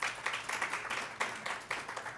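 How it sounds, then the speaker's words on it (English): Applause from a conference breakfast audience honoring sponsor Nissan, a steady wash of many hands clapping at moderate distance, with uneven surges throughout and no voices over it. "Let's give Nissan a round of applause"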